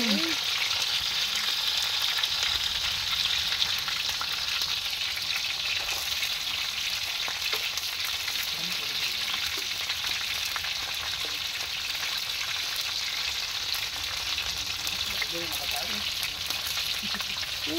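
Steady, loud sizzling of food frying in a pan continues throughout, with occasional crackles and pops.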